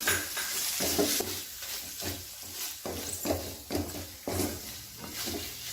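Sauce stirred around a pan with chicken masala and chilli powder, a spoon or spatula scraping and clinking in a repeated rhythm over a soft simmer, close and fairly loud, no voices.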